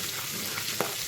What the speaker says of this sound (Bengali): এখনই ভাজা হয়ে যাবে মাছের মাথার সঙ্গে।